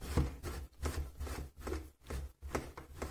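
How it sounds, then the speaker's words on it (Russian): Scraping strokes of cheese being grated on a fine grater, a repeated raspy back-and-forth rhythm, close and moderately quiet. "Натираем сыр на мелкой терке"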